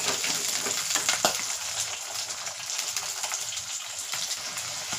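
Around 200 grams of garlic sauté in oil for a pickle, giving a continuous close hiss and crackle with a few sharper pops and no speech.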